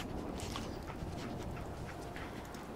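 A dog companion in the Fallout 4 video game panting rapidly and steadily at close range, a breathy rhythmic huffing with a faint whimper, heard alone.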